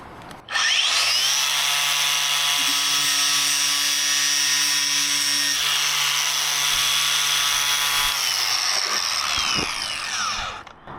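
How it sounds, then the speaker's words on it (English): A FLEX 24V cordless angle grinder cuts into the edge of a piece of timber, a loud, sustained high-pitched whine with a steady droning tone that runs for several seconds before spinning down at the end. "I don't really have anything proper to use this grinder on, so we just might use this wheel and just take off the edge of this timber here"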